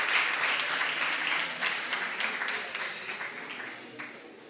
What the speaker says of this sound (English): Maybe you can give me a break and clap a little bit.